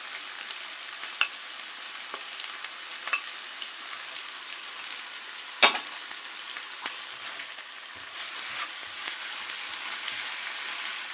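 Cubed capsicum sizzles in a pan while chicken pasta is being cooked, a steady close frying hiss with a few sharp crackles and pops and one louder clatter midway.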